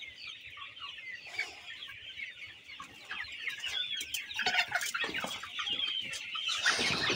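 Sonali chickens on a farm cluck and chatter continuously at close range, with a few sharper squawks and rising calls toward the end, no talking over them.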